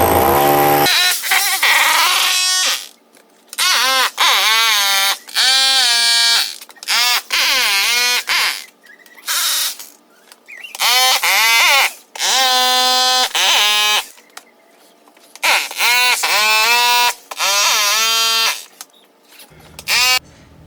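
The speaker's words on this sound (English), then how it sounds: "I'm going to use a small chipping hammer to vibrate the concrete so that it all settles" Loud, rattling mechanical buzz from a small chipping hammer vibrating concrete in a countertop mold, switching on and off in repeated bursts of a few seconds with silent gaps.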